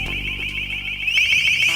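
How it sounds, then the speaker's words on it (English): An LRAD long-range acoustic device sounds its alarm tone, a loud piercing shrill warble that stays steady and then begins to sweep upward toward the end, with no speech. "LRAD broadcasts highly intelligible, live or pre-recorded voice messages and alarm tones in a 30-degree beam"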